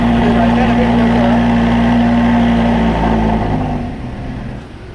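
Lamborghini Gallardo Superleggera LP 570-4 with its Audi-built engine at cold start, a loud, steady high idle around 5,800 RPM that holds strong before the revs drop away near the end.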